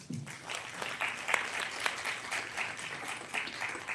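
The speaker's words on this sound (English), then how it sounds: "let's give an applause to that" An audience applauds during a women's inter-city meet, with steady, dense clapping that runs the full length at moderate volume without talk over it.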